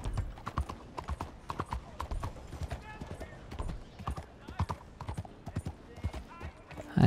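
Horse hooves clip-clop in a steady, brisk rhythm during a ride in Red Dead Redemption 2 at night, the close, even footfalls continuing throughout.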